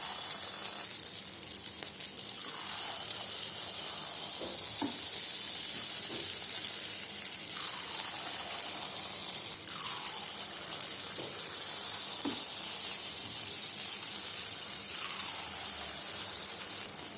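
Honey candy batter frying in hot oil for a sweet snack, a steady close sizzle and hiss running throughout with a few brief clinks and stirring sounds, no talking.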